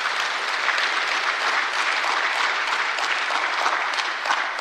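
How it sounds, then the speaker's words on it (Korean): Steady, dense applause from a church congregation for one of its members, close and full, holding at an even level throughout with no talk over it. "우리 신창사 박수 한번 하겠습니다"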